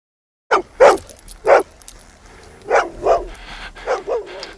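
A dog in the horror film Dog Soldiers barks in close, loud bursts, three quick woofs followed by several more uneven barks and yips, with no voices.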